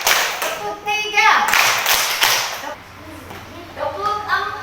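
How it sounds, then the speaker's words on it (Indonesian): A primary classroom group claps a short rhythm of three claps on a teacher's call during a practice lesson; the sharp, fairly loud claps arrive in brief bursts, with a voice and children's chatter around them. "Tepuk 3."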